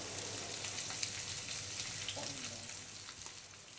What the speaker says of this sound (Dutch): In die pannen dicht schroeien.